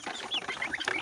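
Young desi chickens, about thirty days old, cluck and cheep in a quick, busy chorus close by as they run and jump around.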